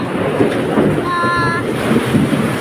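Strong typhoon wind buffets the microphone with a constant low roar and gusty rumble, with a faint whistling tone in the middle.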